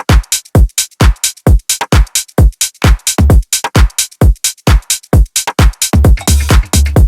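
A remix drum loop plays loud and close, with a punchy, thumpy kick driving a steady rhythm under sharp claps and busy shaker hits. There is no voice.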